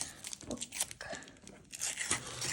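Trading card packs being torn open by hand, a string of close crinkly rips and foil crackles in irregular bursts, fairly quiet.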